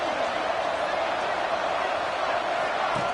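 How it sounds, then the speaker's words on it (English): A fired-up football stadium crowd roars early in the game, a dense, continuous wash of loud cheering and noise with no break from start to finish. "It's early, but this crowd is fired up. Listen to this noise here."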